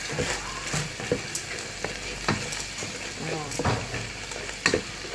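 Macaroni sautéing for sopas sizzles and crackles steadily in a hot pan, with repeated scraping stirs and occasional clinks of the utensil, close and fairly loud.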